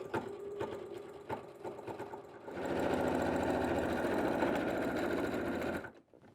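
A sewing machine top-stitching along the edge of a dish mat being turned into a crossbody bag, a few short bursts and then a loud, steady, rapid mechanical whirr for about three seconds before it stops.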